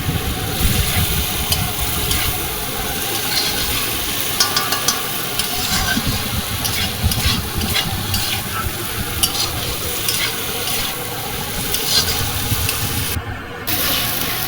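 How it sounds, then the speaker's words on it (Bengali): Bitter gourd and potatoes frying in a pan, stirred steadily with a utensil: continuous close sizzle under repeated scraping and clinking strokes, with no speech. "উচ্ছেগুলো দিয়ে একটু নাড়াচাড়া করে তারপরে আমি জল দিয়ে দেবো।"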